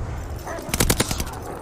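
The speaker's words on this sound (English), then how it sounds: "Friendly attack dogs on the way." In Call of Duty: Vanguard, attack dogs bark among bursts of gunfire in a multiplayer match. A rapid cluster of loud sharp reports and barks lands in the middle of the clip over steady battle noise.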